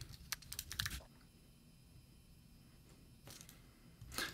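Quiet bursts of key clicks as an SSH command is typed on a Mac computer keyboard: a quick flurry of taps, a silent stretch, then another cluster of keystrokes at the end.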